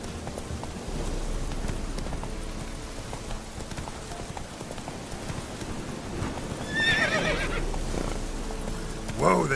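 The horse Roach in the video game Witcher 3 galloping with steady rapid hoofbeats, then letting out a high whinny near the end and snorting; moderately loud, with no talk.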